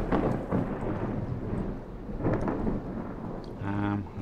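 Video game thunderstorm with steady rain and repeated rolling thunder rumbles, loud and close, plus a short synthetic tonal chime near the end.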